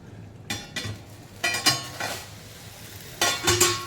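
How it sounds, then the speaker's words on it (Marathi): Grated radish and radish-leaf stir-fry being turned in a pan, with several separate scraping bursts of a spoon against the pan between quiet gaps and a faint sizzle underneath. "मध्ये एक दोनदा मी येऊन परतवून गेली भाजी"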